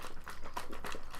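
Water sloshes inside a hand-shaken water bottle, a continuous close splashing rhythm of quick back-and-forth pulses with no talk.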